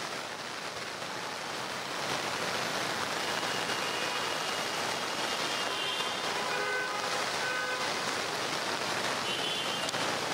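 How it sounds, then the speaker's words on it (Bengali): Heavy downpour in Dhaka, a steady unbroken hiss of rain that swells slightly after the first couple of seconds and holds at a constant, moderately loud wash with no voices. "রাজধানীতে ভোর থেকেই মুষলধারে বৃষ্টি হচ্ছে।"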